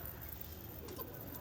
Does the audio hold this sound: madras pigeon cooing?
yes